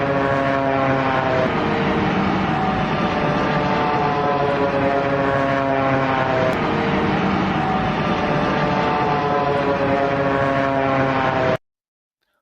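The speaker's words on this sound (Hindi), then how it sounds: "एक जापान एयरलाइन का विमान इसी तरह की आवाज के साथ लैंड हुआ था और उसमें भी रैम एयर टरबाइन खुला हुआ था" A Japan Airlines airliner lands with its ram air turbine deployed, making a loud, steady whining drone with a strong tonal buzz. The sound holds without break for about eleven seconds and then cuts off suddenly.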